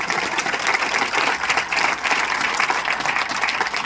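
An audience at a naturopathy talk breaks into loud, dense applause, an even roar of many hands clapping close by that holds steady with no voices over it.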